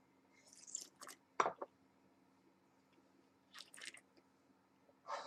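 A mouthful of Beringer Chardonnay is rinsed around the mouth during tasting: quiet, wet swishing and slurping in a few short bursts separated by near silence.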